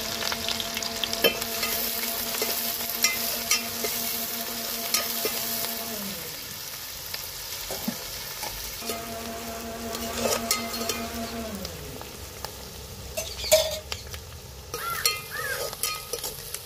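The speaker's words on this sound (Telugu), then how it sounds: "ఉల్లిపాయ ముక్కలు వేస్తున్నాను" Onion pieces sizzle in four spoons of oil in a pan, with continuous close frying hiss, occasional spoon scrapes and stirring clatter, and a faint steady tone in the background.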